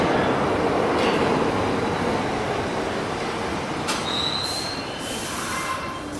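New York subway 6 train running through a tunnel, a loud steady rumble of wheels with sharp metallic squeals rising near the end, close and continuous with no voices.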